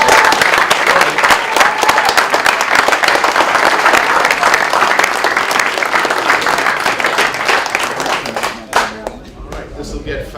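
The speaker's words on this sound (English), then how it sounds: "People, you're allowed to officially clap now." A crowd of family and onlookers at a high school football signing day applauds loudly and steadily for about nine seconds, a dense close clatter of many hands, then tapers off with scattered claps and a murmur of voices.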